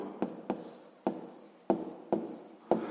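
A pen writes on paper in short scratchy strokes, six quick bursts close and quiet, each starting with a tap and fading, no voice over them.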